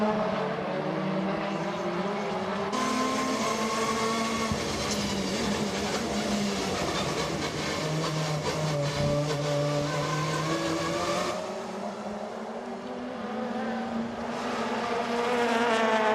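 WTCC touring race cars during the 2014 season, engines screaming loudly through rising and falling gear changes as several cars pass close by in succession on the circuit.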